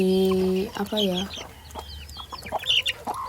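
Free-range village chickens cluck close by in a rural yard, with a harmonic call at the start and then a run of short, uneven clucks and squawks that rise and fall over a low background.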